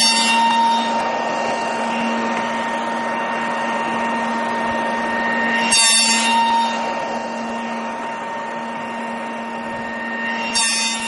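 A hand router with a 1/2-inch classical bit runs along a fence, cutting wood moldings: a steady, close, high-pitched motor whine with a humming tone underneath, briefly interrupted twice.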